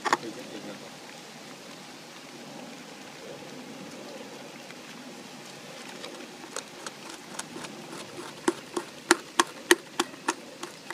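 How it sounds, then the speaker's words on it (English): Porcupine gnawing on plywood outdoors, a quiet background hiss that gives way to a series of sharp, irregular crunching and scraping bites, growing louder and more frequent toward the end. "this porcupine's having a little feast on the plywood"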